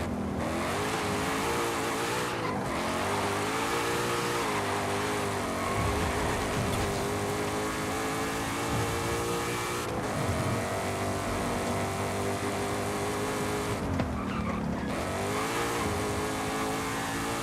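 A car drifting in Forza Horizon 5 free roam, its engine revving loudly and steadily with rising and falling pitch, tires squealing, and brief dips at gear shifts, all close and without talk.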